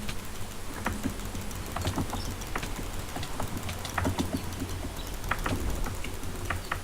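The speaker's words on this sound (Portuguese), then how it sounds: "você escuta o teclado do Percy" Rapid computer keyboard typing during a Minecraft PvP match: dense, steady clicking and key taps run throughout, fairly close and without talk.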